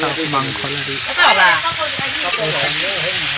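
Meat stirred in a pot at an outdoor cooking gathering in Monakuchi, a loud continuous sizzle with scraping stirs, faint voices murmuring underneath.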